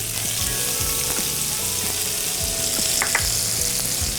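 Shallots sizzling in butter in a pan, a close, continuous crackling fry with rhythmic stirring scrapes underneath.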